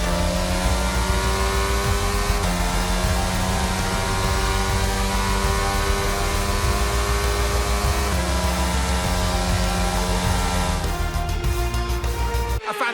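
F1 car in the F1 22 video game driving on the Austrian circuit in the Styrian Alps, a loud sustained high engine whine with steady pitch shifts through gears, continuous and close, with no voices.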